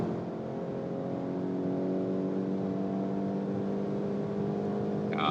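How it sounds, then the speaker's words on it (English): A 2025 VW Golf GTI facelift accelerates, heard from inside the cabin as a continuous engine drone with a slowly climbing tone over road and wind rush, steady and fairly loud, without talk. "very good acceleration."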